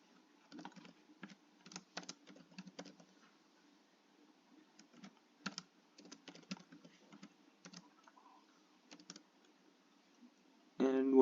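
Bursts of typing on a computer keyboard while writing code, quick clicking keystrokes in uneven clusters with pauses, fairly close and moderately quiet, ending in a louder burst.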